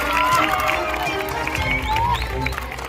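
Audience applause and cheering at a children's day competition, a dense sustained wash of clapping with crowd voices mixed in throughout.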